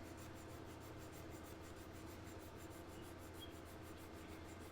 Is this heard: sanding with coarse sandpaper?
yes